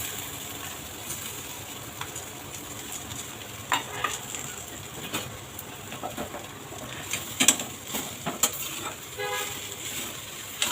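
Potatoes being stirred in hot oil tempered with asafoetida, a steady close sizzle with scraping spoon strokes and a few louder clatters, no talking.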